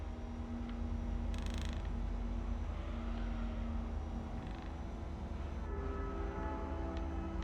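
A train rumbles past with steady creaking and clattering of rail cars, a continuous moderately loud roar lasting throughout, a brief hissing burst early on and faint horn-like tones.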